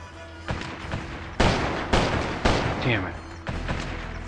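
Gunfire rings out in a video game: a handful of loud, sharp shots spaced about a second apart, each with a short ringing tail, close and prominent, with a voice speaking between them.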